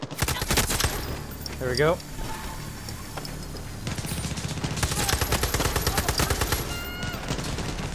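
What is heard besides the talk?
gunfire from enemies in video game Far Cry 6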